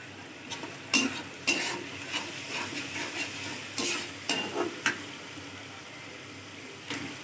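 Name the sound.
fish frying with ginger garlic paste, stirred in pan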